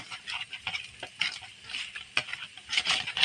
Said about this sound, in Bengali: এই আমরা তেল দিচ্ছি, দিয়ে ভালোভাবে মিশিয়ে নিতে হবে